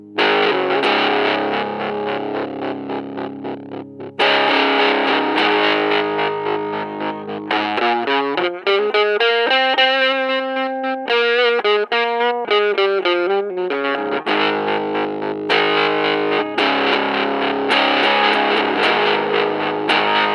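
Distorted electric guitar chords drone through a Danelectro Hodad DH-1 mini amp, then a middle section of repeating echoed notes bounces and decays before the gritty chords return.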